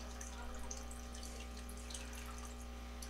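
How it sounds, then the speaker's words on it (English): A bubbler running in a hermit crab tank gives a steady low hum with a constant watery trickle and scattered small splashes, close by and continuous with no talking. "If you're guys wondering what that noise is, there's a bubbler over there"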